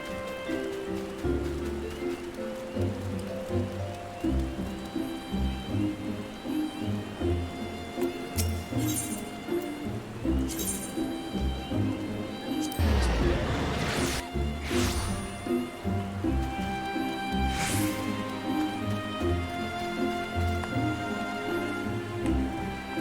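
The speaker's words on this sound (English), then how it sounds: "Yeah, it's raining." Steady rain hisses through the game Final Fantasy XIV, loud and continuous over a busy music bed, with a few sharp whooshing crashes breaking through in the middle.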